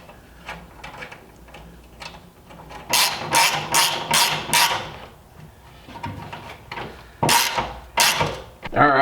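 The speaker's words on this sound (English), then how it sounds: "you're just gonna have to use a 10 mil wrench and also a ratchet just to tighten that down" A ratchet wrench tightens a nut and bolt on a Miata front splitter bracket, with bursts of quick clicking and metallic clatter in uneven groups, close by, and faint voices in the background.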